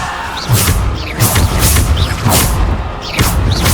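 Repeated booming blasts of the Bombarda explosion spell in Hogwarts Legacy, cast during the Trial of the Stone, with about four loud broadband bursts in quick succession over rumbling low-end game noise.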